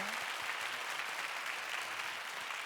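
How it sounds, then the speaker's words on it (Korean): A studio audience at a live New Year's broadcast applauds, with dense, sustained clapping at an even level throughout and no voices over it. "다시 한번 큰 박수"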